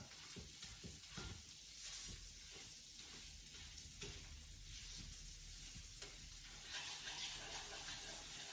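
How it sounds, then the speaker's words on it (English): In a pan, a spoon back mashes soft garlic into butter, heard as a quiet, steady sizzle with repeated soft scraping strokes and an occasional light clink, close and faint. "in this pan, we're going to put all that garlic and that butter. And with the back of a spoon"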